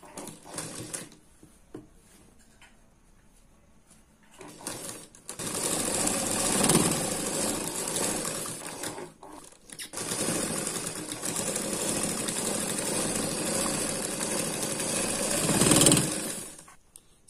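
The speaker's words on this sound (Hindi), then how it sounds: "तो अब हम शुरू करते हैं सिलाई लगाने को।" A sewing machine stitches a line of seam beside the piping of a princess-cut blouse, running in two long, steady, loud bursts with a short pause between them and a quiet start.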